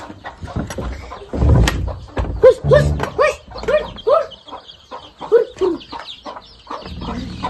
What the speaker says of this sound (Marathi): बघा कोंबडीची बारकी पिल्लं.